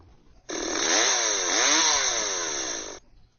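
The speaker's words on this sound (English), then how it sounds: "and LF, better known as Leatherface, revved up his chainsaw." A chainsaw roars to life and revs loudly for a few seconds, its pitch rising and dipping, then cuts off abruptly.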